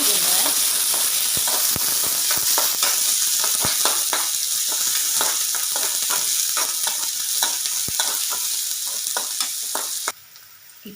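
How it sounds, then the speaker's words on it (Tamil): Chopped onions sauté in a pan for cabbage poriyal, a close continuous sizzle with rapid scraping stirs and clicks throughout, cutting off abruptly near the end. "வெங்காயத்தை சேர்த்து நல்லா வதக்கிடுங்க."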